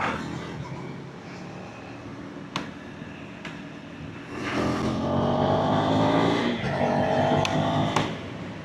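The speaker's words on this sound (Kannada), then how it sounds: "ನಾನಿವಾಗ ಇದರಲ್ಲಿ ಕ್ವಿಕ್ ಶಿಫ್ಟರ್ ಇದೆ, ಹೆಂಗೆ ವರ್ಕ್ ಆಗುತ್ತೆ ತೋರಿಸ್ತೀನಿ ನೋಡಿ" A KTM 390 Adventure motorcycle with a quick shifter accelerates hard through the gears on an open road. The engine note rises in a steady, loud climb with brief shift breaks, wind noise rushes underneath, and a rider talks over it.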